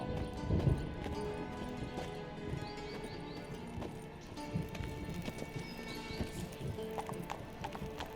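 Horse hooves clip-clopping in The Witcher 3, a brisk rhythmic stream of hoof strikes with an occasional whinny and rustling tack, moderately close under game ambience.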